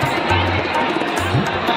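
A large crowd of people seated in a lavish pandal at Gudiyari fills the air with a continuous, fairly loud murmur of voices and general hubbub, with a low steady hum beneath it.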